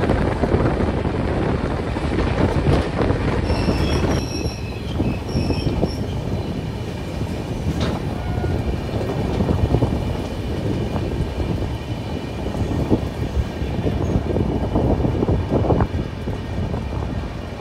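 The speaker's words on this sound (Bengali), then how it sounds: "আমাদের ট্রেনটি ছেড়ে দিল হচ্ছে পরেশনাথ স্টেশন থেকে" The Jammu Tawi Express pulls out of Parasnath station with a steady, loud rumble of wheels on track, metallic squeals and wind buffeting throughout.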